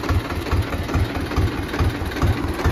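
A tractor engine runs at idle outdoors, a steady low, pulsing chug with a regular knocking rhythm, close and fairly loud with no talk over it.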